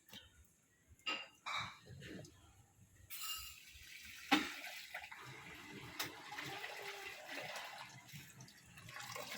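A TCL washing machine rinsing, with water splashing and running inside the drum, soft and close, broken by a few clunks and a louder slosh partway through.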